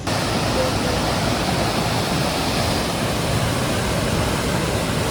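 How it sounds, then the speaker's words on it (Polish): A mountain stream near Zakopane rushes in a steady, dense wash of water noise, close and constant throughout with no pauses. "To pierwszy potok, przed nami, za nami."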